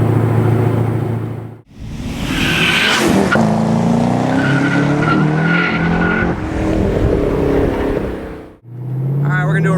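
Corvette C6 Z06 twin-turbo engine with a loud, deep bass rumble that rises in revs and then settles, heard close and steady with brief drops near the start and end.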